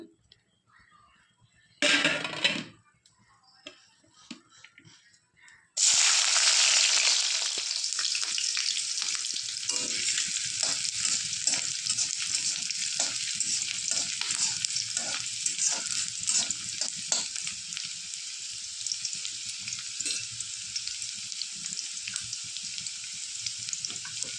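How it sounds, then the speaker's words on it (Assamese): Hot oil crackles in a short burst in a hot wok, then after a pause a loud, steady sizzle of onions and green chilies frying takes over and continues with stirring scrapes. "তেলখিনি এতিয়া মই ইয়াতে দিম এয়া পিয়াজ জলকীয়া"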